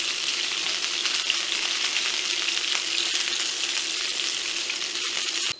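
Beef oxtail fries in a pan of hot oil, giving a loud, steady, close sizzle that barely changes throughout.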